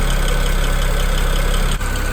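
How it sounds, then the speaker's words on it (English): A healthy BMW N54 engine idles steadily with a constant low rumble and a fine, rapid injector ticking layered on top, close up and loud with no speech. "This is a really healthy N54 engine noise."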